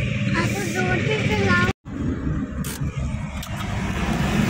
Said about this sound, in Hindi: एक गाड़ी आगे रुकी, एक यहाँ।